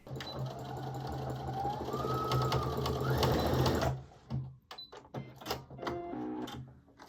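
A sewing machine stitches pockets onto a onesie in a rapid, continuous whir for about four seconds, then stops, followed by a few softer clicks and handling sounds nearby.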